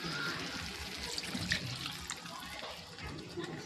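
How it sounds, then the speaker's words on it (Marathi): Water splashes steadily into a pan holding eggs while cooking, a continuous pouring rush with a faint roomy background. "आता आपण अंडे सोडूयात आणि त्याच्यानंतर थोडंसं पाणी टाकूया, जेवढा आपल्याला रस्सा हवा आहे तेवढा."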